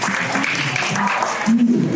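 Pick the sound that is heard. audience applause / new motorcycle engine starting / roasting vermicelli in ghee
audience applause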